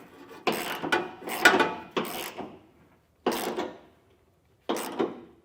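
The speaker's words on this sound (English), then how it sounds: "We'll snug these bolts down using a 15/16 size socket." A ratchet with a 15/16 socket snugs down bolts on Demco Premier Series above-bed base rails, heard as five separate bursts of close, rasping clicks with short pauses between strokes.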